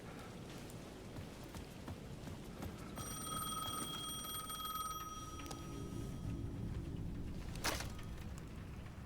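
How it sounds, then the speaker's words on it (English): A payphone rings on a rainy plaza in the video game Alan Wake 2, one sustained electronic ring tone lasting a few seconds at moderate volume over steady falling rain, with a brief louder splash or gust near the end. "The payphone at the edge of the plaza was ringing again."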